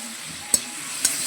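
Koi fish fries in a pan with spice paste and a splash of water, giving a steady, close sizzle broken by two sharp clicks of a utensil against the pan.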